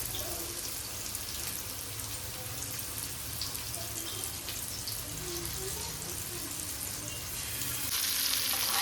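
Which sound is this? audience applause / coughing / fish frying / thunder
fish frying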